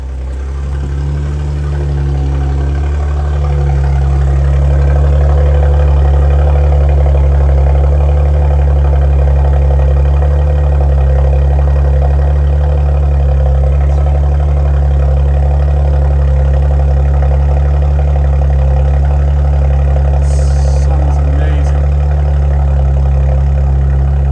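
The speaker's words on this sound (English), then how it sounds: "That's the cold start finished with now." A Porsche Macan S engine idles after a cold start, steady and loud at close range, a constant low rumble holding at one pitch throughout with no speech.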